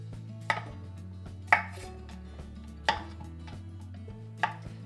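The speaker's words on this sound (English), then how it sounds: "Next, I'm going to chop up a couple of cucumbers." Homegrown garden cucumbers chopped with a knife on a board, four distinct sharp chops spaced about a second apart, close and clear over a low steady background hum.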